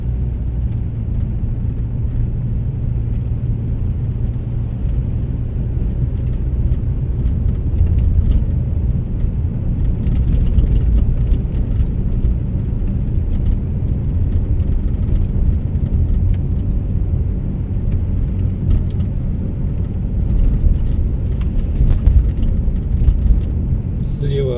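A car rolls through the streets of Anadyr, Chukotka, in January winter, a steady low engine and road rumble running throughout beneath continuous narration.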